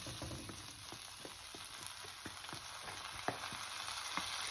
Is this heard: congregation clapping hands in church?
no